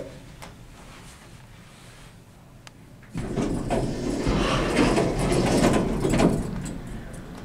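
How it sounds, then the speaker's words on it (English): An Otis hydraulic elevator, modded with Otilec equipment, at Wests Leagues Club starts up after a quiet stretch and runs with a steady, loud mechanical rumble and hum that holds for several seconds. "Otis hydraulic elevator here at Wests Leagues Club"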